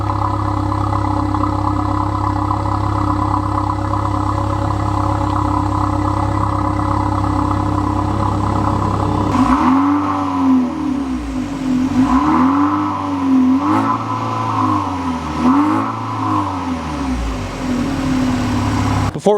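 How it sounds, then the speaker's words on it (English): A Dodge Hornet engine runs steadily at idle, then rumbles with a few slow rising and falling revs; no talking. "if I also sit here and listen to it at idle, it's got a pretty good note to it"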